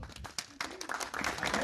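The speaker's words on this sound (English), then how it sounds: "Big round of applause." Audience applause at a film premiere cast and crew Q&A, scattered claps building into fuller, denser clapping from a crowd over a couple of seconds, with some voices mixed in.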